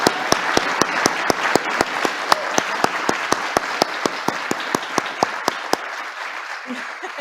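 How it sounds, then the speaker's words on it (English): Audience giving another round of applause for Gabby at an event honoring military and veterans' families: loud, steady crowd clapping with a strong rhythmic beat as many hands clap in unison, fading out at the end. "Can we give her another round of applause?"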